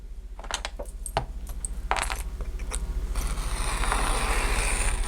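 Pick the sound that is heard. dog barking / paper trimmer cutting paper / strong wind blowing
paper trimmer cutting paper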